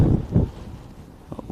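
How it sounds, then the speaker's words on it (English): Gusty wind buffets an outdoor microphone at a high school baseball field on a cold, very windy day, low rumbling blasts rising and falling with no talk. "Very, very windy and cold day here at Hurricane."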